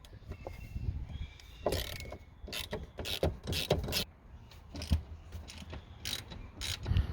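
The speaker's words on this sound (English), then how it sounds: "Start by removing the two factory front seat bolts with that M10 triple square tool bit." A ratchet loosening the factory front seat bolts in a VW Amarok with an M10 triple square bit, with irregular bursts of clicking and mechanical rattling up close and no talking.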